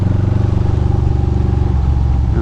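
Close and loud, a Ducati moped with water in one cylinder runs rough, its engine knocking out an irregular, lumpy idle beat in Brooklyn with a steady low drone underneath and no voices.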